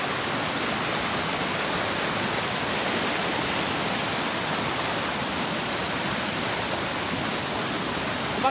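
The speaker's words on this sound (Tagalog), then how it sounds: "Ito po yung sinasabi ko sa inyo, yung pangalawang waterfalls." A waterfall on Biliran island pours in a loud, steady, close roar of rushing water that never lets up, with no voices over it.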